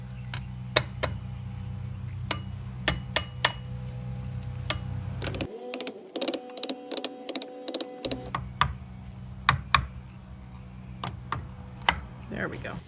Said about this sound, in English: so Sister can have access to it to pound on it. See how she's doing that a little bit at a time